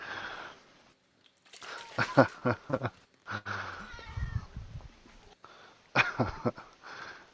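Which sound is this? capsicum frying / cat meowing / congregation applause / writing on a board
cat meowing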